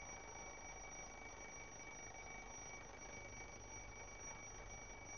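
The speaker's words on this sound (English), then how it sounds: "as we move further away from the clock, the sound of the alarm gets quieter" An alarm clock bell rings continuously and steadily for the whole stretch, a dense metallic clatter heard alone without any voices, sounding fairly faint and somewhat distant.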